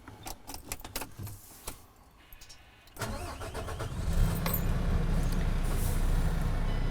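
Clicks and rattling give way to a car engine cranking and catching, then settling into a steady, loud idle rumble, the car supplying power through jumper cables.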